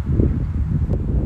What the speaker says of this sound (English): it's a bit windy out here today, so it might get a little noisy in the background